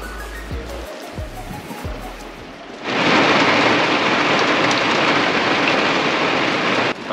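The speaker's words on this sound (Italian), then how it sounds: "Sta veramente diluviando" Heavy summer rainstorm with thunder in Greece's Peloponnese: a low rumble and a few dull knocks give way to a sudden loud, dense roar of downpour that lasts to the end.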